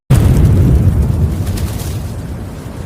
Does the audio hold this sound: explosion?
yes